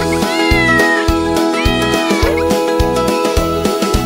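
Several high, gliding cat meows ring out over a steady, bouncy musical beat of a Bengali children's song, spaced evenly through the tune.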